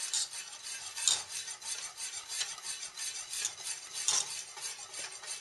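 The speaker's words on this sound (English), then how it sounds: "The whole idea behind whisking constantly is to keep it from burning and evenly heat it." A whisk scrapes steadily around a pan of melting cheese sauce for a Kentucky Hot Brown, a quiet, close, rhythmic swishing with faint sizzling and no talking.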